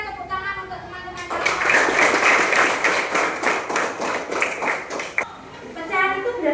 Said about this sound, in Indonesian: Minta tepuk tangan untuk teman-teman.